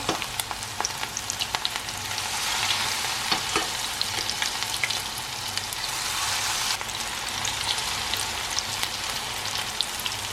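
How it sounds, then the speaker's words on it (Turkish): Steady, dense crackling sizzle of cauliflower frying in hot oil, continuous and fairly close, with scattered sharper pops throughout and no talking. "Şimdi kızartmaya devam ediyorum."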